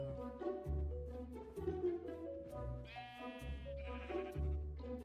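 Blocky sheep in Minecraft bleat repeatedly, several nasal calls following one another closely over a low steady background tone, clear and fairly near, with no talking.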